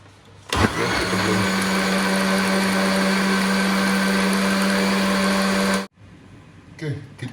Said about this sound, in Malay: Okey, kita blend.